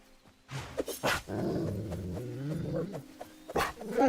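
A dog-like creature growls in the Hytale video game: a low, rumbling snarl that runs steadily for about two seconds at close range, with brief sharper yelps at its start and end.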